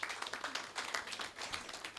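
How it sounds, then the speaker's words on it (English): Audience applause at the close of a panel discussion at a college research partnership launch, a steady, fairly faint patter of many hands clapping. "give this panelist and yourself a big round of applause"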